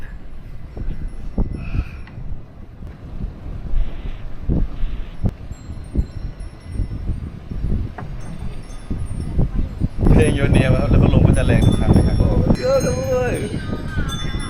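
Strong, gusty wind rumbles and buffets the microphone outdoors at a high, exposed spot. The roar builds and stays dense throughout, and several voices talk over it toward the end.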